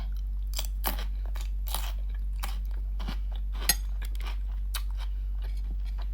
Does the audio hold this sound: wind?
no